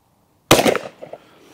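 A single sharp, loud report from an AYA Premium side-by-side 20-gauge shotgun firing an Ultimate 20 cartridge with 5.5 shot, followed by a brief fading echo.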